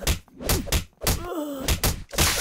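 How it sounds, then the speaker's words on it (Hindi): Punches and thuds land in a dubbed Hindi movie fight scene, a series of loud, heavy whacks in quick bursts with a groaning strained voice in between. "इतना मारो कि इसके होश ठिकाने आ जाए।"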